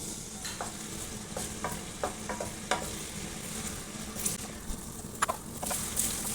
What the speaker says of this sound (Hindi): अदरक लहसुन का पेस्ट इतना फ्राई करना है कि बादामी रंग का हो जाए।